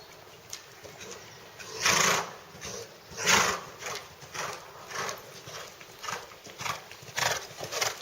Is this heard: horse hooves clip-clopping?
yes